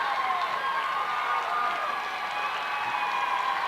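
Floyd Central fans roar at a girls' high school basketball semifinal game, a dense, sustained crowd cheer filling the gym steadily from start to finish with no pauses.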